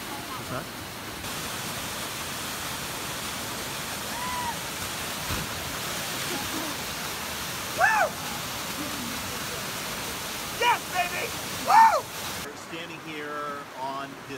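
The Pai River in Thailand rushing beneath a rickety bamboo bridge, a steady broadband wash of flowing water with a few faint voices and brief knocks, fading out near the end.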